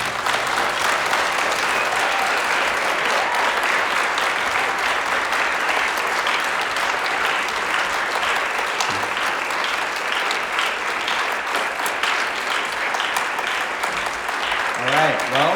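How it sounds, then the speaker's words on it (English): Audience applause fills the room after a live song at a performance event, dense and steady clapping sustained at full loudness throughout, with a few voices calling out near the end. "thank you to all of you for that lovely applause"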